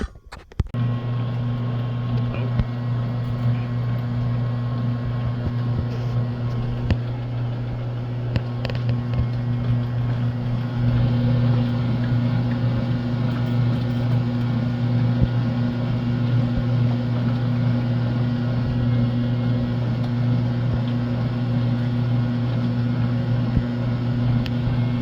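A 2002 Kenmore double-stack washer with a newly replaced drain pump runs empty with cleaner, starting with a clunk and then settling into a steady, loud mechanical hum and whir that lasts throughout.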